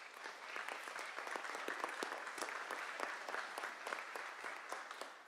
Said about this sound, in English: if we can give him one more round of applause, please